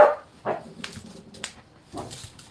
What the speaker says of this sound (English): My dog is noisy.